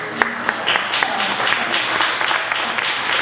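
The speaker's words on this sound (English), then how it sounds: "Round of applause." Applause from an audience at a motivational talk, a brief burst of clapping with a few sharper individual claps standing out over a steady wash, voices faintly underneath.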